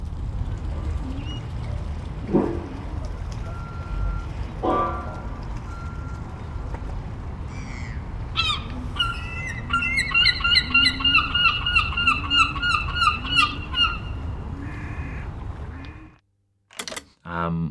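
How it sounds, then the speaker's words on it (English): Outdoor ambience at North Shields Fish Quay with steady low rumble, scattered birdcalls and metallic clanks, a rhythmic beeping run midway, and a brief burst before it cuts out. "just down the North Shields Fish Quay, just to see how it would handle the ambiences down there"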